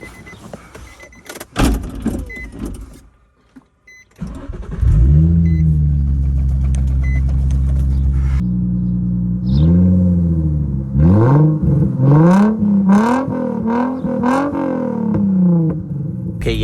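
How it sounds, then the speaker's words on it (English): A V6 car accelerates on pavement, its engine rising and falling through several loud revving sweeps, with a power window whirring and a few clicks before it. "That V6 sounds so good."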